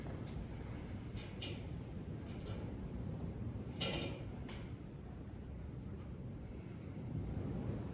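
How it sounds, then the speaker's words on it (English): Wind blows steadily outside a château, a broad rushing roar buffeting the microphone, with a few brief brighter gusts or rattles rising above the constant wash. "Have a listen to the wind."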